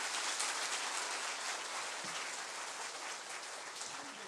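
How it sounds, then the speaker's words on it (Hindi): Audience at an indoor wellness session claps for themselves, a dense, steady wash of applause filling the room, close and fairly loud throughout. "जोरदार ताली बजाएंगे अपने लिए।"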